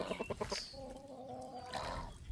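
Chickens cluck and murmur quietly in shallow floodwater on an Appalachian homestead, a short run of close clucks followed by softer, drawn-out fowl calls.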